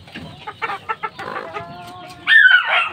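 Fighting roosters cluck in a series of short, close calls, ending with a loud, drawn-out crow at the end.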